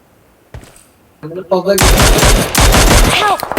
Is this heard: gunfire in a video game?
yes